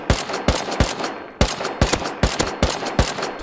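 Gunfire in the video game Rust comes as a rapid string of sharp shots, about a dozen in uneven bursts with short pauses, close and loud with no talk over them.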